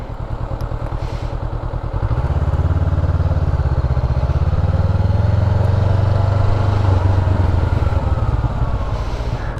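A motorcycle close by pulls away from a low idle, its engine rising in a loud, rough roar as it gathers speed and shifts into second gear, then easing back down as it comes to a stop, with no talking.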